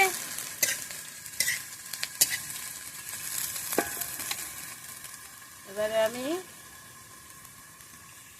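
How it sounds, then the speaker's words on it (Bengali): Fish fries in a pan with a steady sizzle and crackle, broken by scraping stirs and a few clinks of a utensil, while someone speaks briefly. "মাছটা আমার ভালোভাবে ভাজা হয়ে গেছে"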